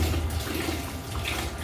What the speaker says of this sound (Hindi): अच्छी तरह हाथ धोएं, अच्छी तरह हाथ धोएं